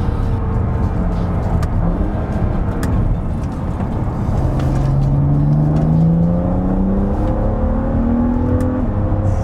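A BMW Z4 35is engine revs hard under acceleration, loud and close, its rising harmonic tones sweeping steadily upward through the gears over a continuous roar with no talk.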